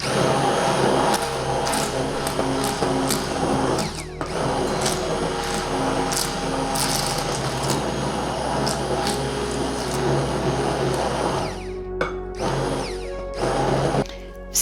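An electric mixer or blender whirs loudly and steadily through lentil bread batter with baking powder, blending it smooth, a close continuous motor drone that shifts pitch briefly near the end.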